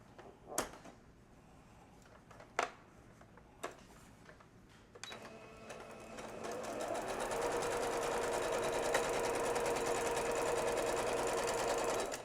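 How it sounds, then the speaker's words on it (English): A sewing machine stitches across one end of a small fabric sleeve for a dog belly band. It opens with a few sharp clicks and handling knocks, then runs steadily and close up with no talk. "you're going to want to sew across just one of the ends"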